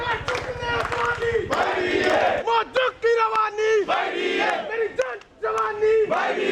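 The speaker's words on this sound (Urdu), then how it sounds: "مظاہرین نے مطالبات کے حق میں نعرے بازی کی۔" Protesting young doctors in Lahore chant slogans against hospital mismanagement: a loud crowd of voices shouting in rhythmic call-and-response bursts, with a lead voice and the group answering in repeated waves.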